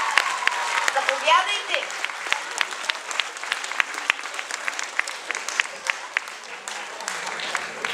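Concert audience applauding for an ensemble, a dense crackle of many hands clapping close and steady for several seconds, with someone speaking briefly over the start.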